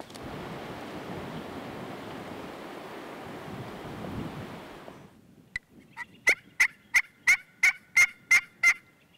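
Wild turkey gobbling on public land in Nebraska, a rapid series of about eight sharp, rhythmic gobble bursts from fairly close after a stretch of steady wind and surf-like rushing noise.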